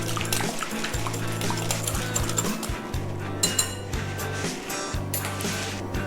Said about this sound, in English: Whisk it all in.